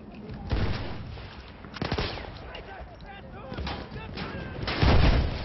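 Artillery shells firing and exploding in the Battlefield 1 video game, heard as several close, heavy blasts and booms at irregular intervals, with the loudest near the end, over rumbling battle noise.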